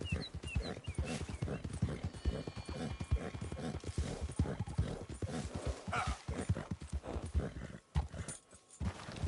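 A horse in the video game Red Dead Redemption 2 trots and gallops with rapid, steady clip-clop hoofbeats, loud and close, with a brief whinny, little or no talk, and a short pause near the end.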